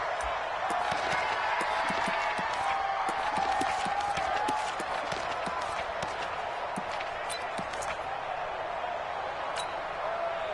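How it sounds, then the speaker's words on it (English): A stadium crowd in a PS4 football video game keeps up a steady roar and cheer, scattered with sharp thuds and clatter from play on the field, and a commentator talks over it throughout. "the crowd getting into it as we come up on a big 3rd down"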